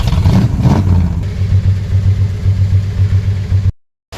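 A 1978 Ford F150 with a 351M V8 and a Weiand Action Plus intake makes a loud, close engine rumble on a cold start. It revs at first and then settles into a steady, throbbing idle before the sound cuts off abruptly.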